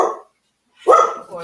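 Dog barking indoors, two short sharp barks separated by a brief silence, close and loud.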